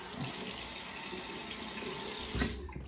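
A bathroom tap running into a sink while a man wets his face before shaving, a steady close hiss of water that ends with a brief splash and then stops.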